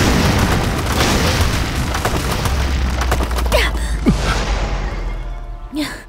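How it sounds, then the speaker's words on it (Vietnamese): A warehouse blows up in a martial arts action movie scene, a loud sustained roaring blast that slowly dies away, with brief gasps and vocal sounds near the end. "Tại sao lại cho nổ kho hàng của người ta chứ?"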